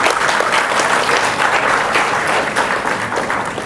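Loud, continuous audience clapping from a large crowd at a summit event, dense and sustained for the whole stretch with no speech over it.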